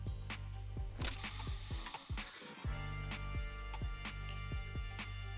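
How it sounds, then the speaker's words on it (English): A special Bangboo spray in the Zenless Zone Zero video game lets out one loud, close hiss lasting about a second and a half over steady rhythmic clicking game sounds. "Here, have a taste of this special Bangboo spray."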